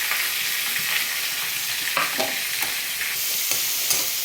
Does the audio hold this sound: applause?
no